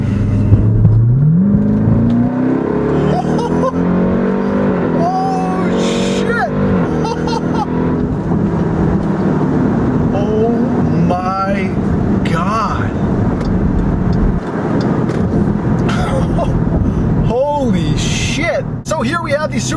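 Supercharged 6.2 liter V8 of a 2018 Jeep Grand Cherokee Trackhawk accelerating hard, a loud rising roar with gear shifts and rough road noise throughout, someone talking over it.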